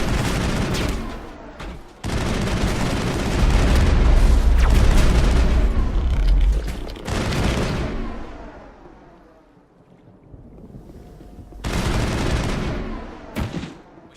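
Gunfire and explosions in the Mass Effect video game, with dense bursts of automatic fire and heavy booming blasts in loud clusters, a quieter lull midway, then another burst.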